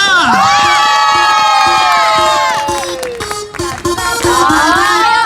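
A crowd claps and cheers at an outdoor K-pop performance contest in a plaza as a freestyle act begins, loud and sustained, with a strong rhythmic music beat and tonal singing or synth running throughout.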